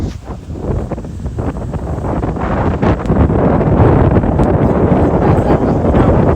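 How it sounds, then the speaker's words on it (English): Wind blowing hard outdoors, a steady rushing roar buffeting the microphone, growing slightly stronger partway through and continuing without speech. "There's wind out here."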